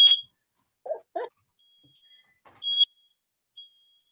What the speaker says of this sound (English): The smoke detector works.